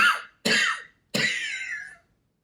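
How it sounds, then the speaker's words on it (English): Three harsh, throaty coughs close to the listener, each a short burst with a gap between, the last one longer and drawn out. "please pardon my cough"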